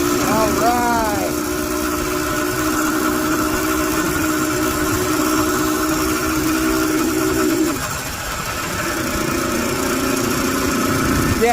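A Zeda 100 engine on a motorized Brigand Chopper bicycle idles with a steady, buzzing drone throughout, dipping briefly near the end before settling back to the same even putter.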